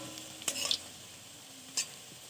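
Bottle gourd leaf fritters fry in oil with a quiet, steady sizzle, broken by two brief metallic scrapes of a spatula in the pan.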